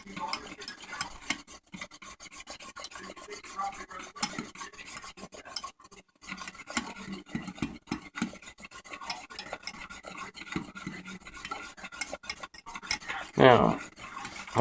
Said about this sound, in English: It's starting to get harder to stir. We just want to keep on whisking it.